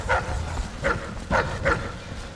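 In the stealth video game Dishonored, kennel dogs bark four times in a steady rhythm, close and fairly loud, over a low, continuous in-game background.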